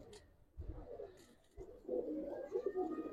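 Domestic pigeons, old-generation Gribaz colouring birds kept in a home loft, coo in low rolling calls that build and overlap toward the end, close and moderately loud, with a couple of brief knocks or handling thumps.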